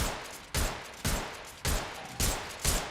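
Gunfire from a slow-firing weapon in Apex Legends, with loud single shots repeating at a steady rhythm about every half second, each followed by a lingering tail, and no talking.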